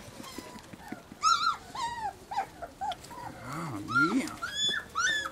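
Dogs play in an outdoor sandbox, giving repeated whimpers, yips and playful growls near the microphone, with a person talking softly in the background.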